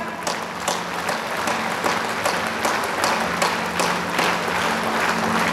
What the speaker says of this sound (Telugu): let's all give a thumping clap